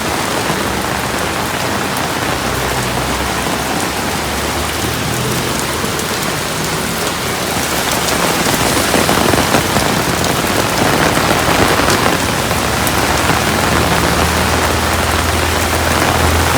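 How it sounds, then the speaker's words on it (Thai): Heavy rain pounds down outdoors in a thick, continuous roar, with gusting wind buffeting and swelling the noise, growing louder in the second half. "ทั้งฝนทั้งลมทั้งฟ้าร้อง"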